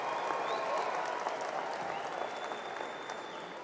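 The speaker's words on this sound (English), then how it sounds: "I'll do anything to get an applause" Audience applause fills a commencement ceremony hall, a dense, steady wash of clapping that fades slightly toward the end with no voices on top.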